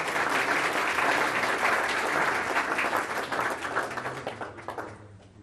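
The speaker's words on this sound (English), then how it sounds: "How about another round of applause?" Sustained applause from an audience at a city council meeting, dense and fairly loud clapping that slowly thins out toward the end.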